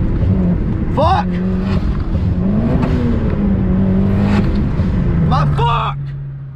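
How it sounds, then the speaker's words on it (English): A car engine revving hard and repeatedly hitting boost cut, the loud whirring rev stuttering and cutting out, with people talking over it throughout. "Pretty much right here, my car is hitting boost cut."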